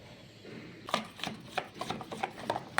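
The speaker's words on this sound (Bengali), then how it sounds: "5-7 মিনিট ধরে এটা ভালো করে একটু ব্যাটারটা ফেটিয়ে নিতে হবে" Batter for poi leaf fritters, made with a spoonful of oil, is beaten in a bowl, giving a quick series of sharp, close clicks and taps in an irregular rhythm.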